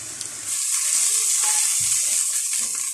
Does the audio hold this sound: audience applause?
no